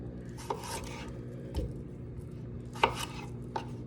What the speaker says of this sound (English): we're going to start by dicing our cucumber